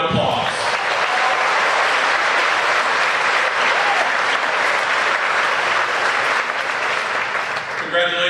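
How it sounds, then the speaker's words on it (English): A high school graduation audience applauds scholarship winners with a long, loud, steady roar of clapping, a few faint cheers mixed in, fading slightly at the end as a voice begins to speak. "Let's give them a round of applause."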